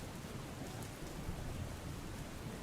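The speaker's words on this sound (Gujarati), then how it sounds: "વલસાડમાં ધોધમાર વરસાદ પડતા જળબંબાકારની સ્થિતિ સર્જાઈ છે" Heavy downpour in Valsad, a dense, steady hiss of rain beating on surfaces, continuous and fairly loud throughout with no voices.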